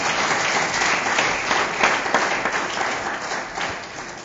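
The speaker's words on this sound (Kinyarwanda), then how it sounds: "Dukomere Imana amashyi, dukomere Imana amashyi" A church congregation claps and applauds in a continuous, lively wash of hand claps, close and fairly loud throughout.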